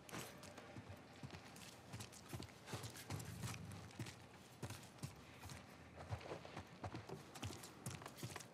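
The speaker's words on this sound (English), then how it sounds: "Let's get back to the horses." Horse hooves clip-clop in a steady trotting rhythm in the video game The Last of Us Part I, close and fairly loud over a low ambient background.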